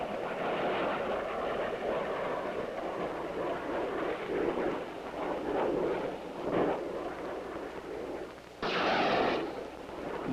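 Bullpup air-to-surface missile fired in November 1956 at a floating target off San Nicolas Island, heard as a sustained loud roaring rush across the whole stretch with a sharp burst of hiss near the end.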